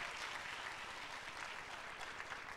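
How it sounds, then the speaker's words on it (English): An audience at a sales promotion ceremony in Atlanta claps in dense, sustained applause, a steady wash of many hands with no voices standing out. "big round of applause, everybody."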